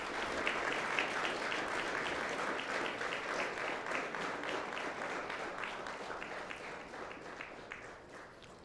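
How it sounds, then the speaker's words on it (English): Students at a military signing day ceremony give a sustained round of applause, a dense, even roar of many clapping hands that holds steady for several seconds before starting to taper off at the end. "Students, please just stand up, turn around, please give them a round of applause."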